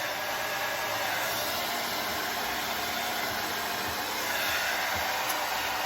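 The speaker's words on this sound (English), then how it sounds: "say I'm drying my hair right there and I'm concentrating at the root" A hair dryer blows steadily at the roots of hair, a constant loud airy roar that runs alone throughout without any break.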